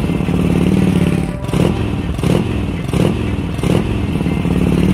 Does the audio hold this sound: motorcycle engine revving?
yes